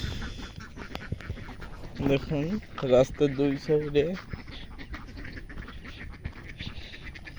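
Ducks on a village road in the morning give a burst of several loud, close quacks in quick succession midway, while someone talks over the scene before and after.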